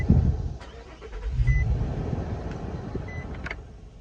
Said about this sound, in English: Alright, so I'm gonna turn the engine on.